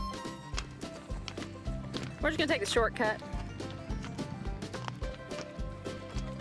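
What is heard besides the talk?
horses walking on rocky ground, hooves clip-clopping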